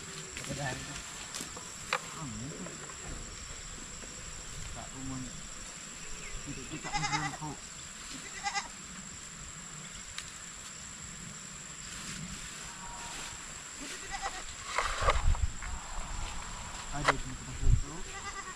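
Native goats on a farm bleat now and then amid insect chirping and rustling, with people talking quietly in another language throughout; a few sharper calls and handling noises stand out near the end.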